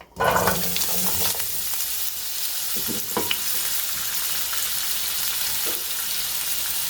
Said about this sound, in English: Now we will fry those potatoes.